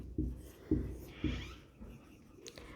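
Writing on a board during a lesson: three evenly spaced taps and strokes followed by lighter scratching and a soft squeak, close and fairly quiet.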